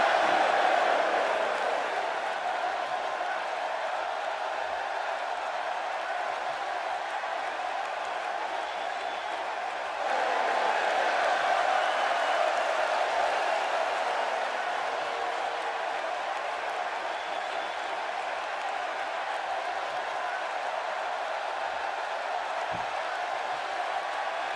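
A video game arena crowd in WWE 2K16 reacts to Bret Hart with a steady, mixed roar of cheers and murmurs that holds for the whole stretch, dense and continuous, with a brief swell partway through.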